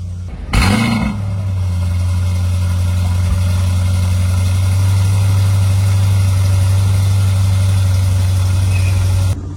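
A Mansory-modified Audi's engine cranks and catches with a sharp start burst, then settles into a steady, loud, low idle that holds evenly to the end, with no talking.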